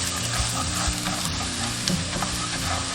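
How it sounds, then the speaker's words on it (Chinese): Minced ginger, garlic and chili powder stir-fry in hot cooking oil in a wok, giving a close, steady sizzle with stirring scrapes throughout and no talking. "锅中倒食用油，下入姜末、蒜末、辣椒面炒香"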